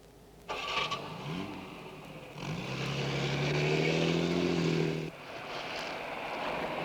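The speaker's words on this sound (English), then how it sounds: "Start the car." A 1960s car engine in a period drama turns over and catches, then revs up steadily and pulls away, the engine note climbing and holding loud before dropping off near the end.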